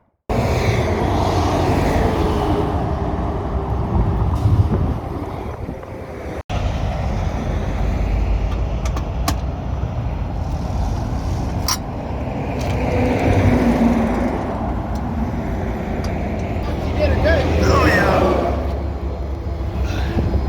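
Heavy highway traffic roars past nearby, a continuous rumble of semi trucks and cars swelling and fading as vehicles rush by one after another.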